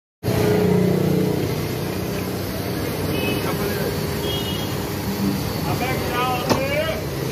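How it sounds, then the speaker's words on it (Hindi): A cargo truck loaded with goats pulls away on a road, its engine a steady, continuous rumble with traffic noise around it, holding a fairly even level from start to end. "700 रुपये ये फैसलाबाद वाली गाड़ी जा रही है।"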